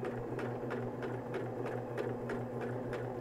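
Sewing machine stitching back down a line of fabric, a steady mechanical hum with fast, evenly spaced needle clatter, fairly quiet and continuous with no talking.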